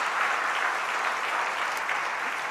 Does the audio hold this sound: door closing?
no